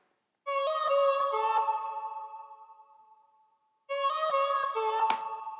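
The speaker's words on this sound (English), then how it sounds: "Very low flute sound, and it's just playing a little melody." Layered low synth flute tones from the Massive synth with overdrive play a short melody, with sustained harmonic notes in two phrases split by a pause.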